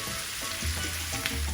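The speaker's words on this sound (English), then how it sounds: "So now you want to stir fry your prawns until they are pink" Prawns stir-frying in a hot pan for Trinidad pepper shrimp, a steady close sizzle with a faint low hum underneath, no voices.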